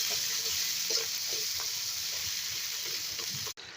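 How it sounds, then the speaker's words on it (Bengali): Red chili spice mix sizzles and fries in a pan while being stirred, giving a steady crackle with soft scraping strokes, close and continuous, ending abruptly. "এখন চলে যাবে লাল মরিচের মিক্স মশলা। ভালো করে কতক্ষণ নাড়াচাড়া করে নিতে হবে,"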